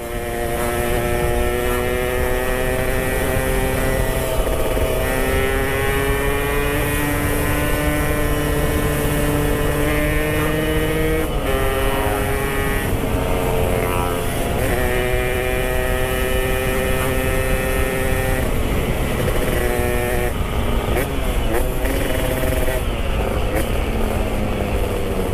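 A newly restored Yamaha RX-King two-stroke motorcycle runs loud and close on a long-distance test ride. Its buzzing engine note holds steady, then rises and falls in pitch through gear changes and throttle shifts for the whole stretch.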